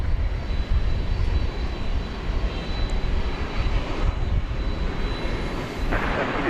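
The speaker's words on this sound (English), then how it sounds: "Tilt up for some landing action here. It's an Ejet." Embraer E-Jet airliner landing at DFW Airport, a steady, loud broadband roar of jet engines that holds close and constant throughout, with no talk over it.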